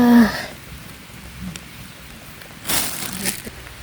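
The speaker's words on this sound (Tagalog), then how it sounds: "lakas ng ulan. Tag-ulan talaga." Steady heavy rainy-season rain hisses throughout beside a fishpond, with a louder gust of downpour near the end; a brief voice is heard at the very start.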